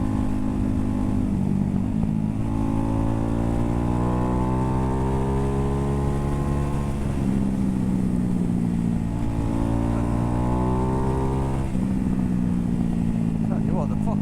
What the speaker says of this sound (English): the fucking bike is sounding awesome. I am loving this combo with the Austin Racing cans, stock pipes.